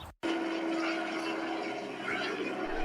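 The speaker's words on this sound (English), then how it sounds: "There is a helicopter coming towards us." A helicopter flying low overhead, heard as a loud steady rotor and engine roar that starts abruptly after a brief silence and holds at an even level.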